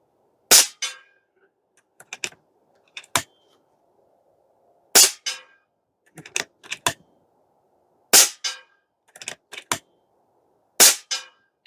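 Shots from an Airmaks Krait Pro L .30 caliber air rifle firing FX Hybrid pellets at a distant target: five sharp cracks spaced a few seconds apart, each followed by a faint distant report, with a quiet background and no talk.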